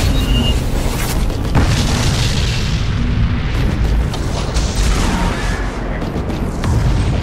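A destroyed Imperial escort ship explodes in Battlefleet Gothic: Armada, a loud, continuous booming roar with crackling debris bursts that rumbles on for several seconds without letting up.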